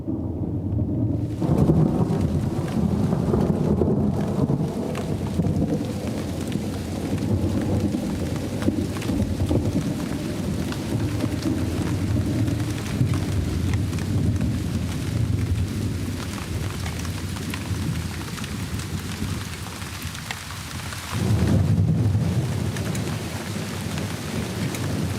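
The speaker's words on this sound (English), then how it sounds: "the horizon rumbles with the promise of rain" Thunder rumbles low and continuously over the parched plains of Venezuela before rain, a dense, loud roar with swells and a brief lull near the end, no talk.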